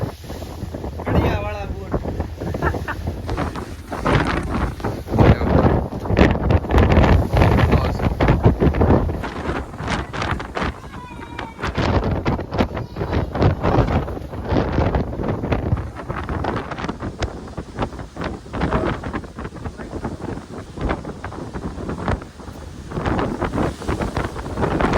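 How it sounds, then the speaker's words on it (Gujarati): Strong wind buffets the open deck of a RoRo ship in heavy rain, roaring in uneven gusts over rushing water, with voices faintly audible beneath the noise. "પવન એટલો છે, પાણીનો ફ્લો જો"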